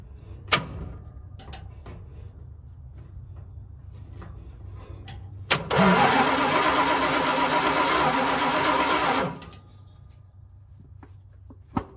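A 1975 Dodge D200 crew cab engine cranks loudly for about four seconds, jumped with a screwdriver across the starter solenoid, then cuts off; a few clicks come before and after.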